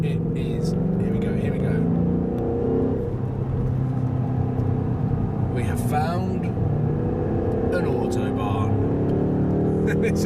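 A 2015 Ford Mustang GT with a V8 cruises on the autobahn, its engine and road noise a steady low drone throughout, with someone talking over it for much of the stretch.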